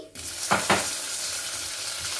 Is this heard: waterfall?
no